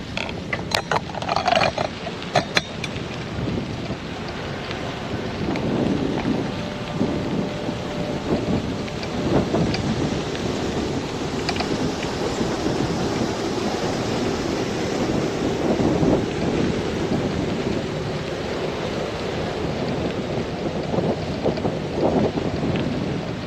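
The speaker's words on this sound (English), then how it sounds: "So we do have a little bit of wind here tonight, you can probably hear it." Wind buffets a microphone during an evening bike ride through Key West backstreets: a loud, constant rumbling roar runs throughout with scattered thumps and crackles and no voices.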